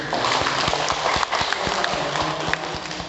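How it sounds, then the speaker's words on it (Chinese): An audience at a class session claps together in thanks for a lecturer, a steady, even patter of many hands sustained throughout. "再热烈掌声感谢"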